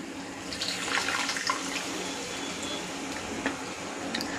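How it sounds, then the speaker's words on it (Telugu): Water is poured into a simmering vegetable curry with tamarind juice, making a steady, moderately loud splashing trickle that carries on without a break. "మనకి ఎన్ని నీళ్ళు కావాలో అన్ని నీళ్ళు వేసుకోవాలి."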